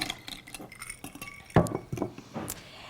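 Ice cubes clink and rattle in a glass of ice water as the water is poured off, a series of bright, close knocks and chinks with one louder clatter midway.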